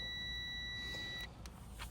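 A multimeter gives a steady, clear continuity beep while fog light wiring is tested for a street-legal light kit. The tone holds for just over a second and then cuts off, leaving a faint background.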